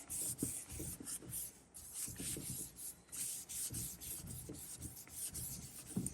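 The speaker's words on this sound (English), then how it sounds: "you will also remove the excess with a lint-free wax cloth" Lint-free cloth wiping excess wax off a wooden dresser surface, a steady close rubbing swish in repeated back-and-forth strokes with no talk.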